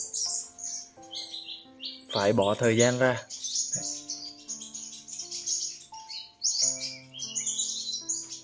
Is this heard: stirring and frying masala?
no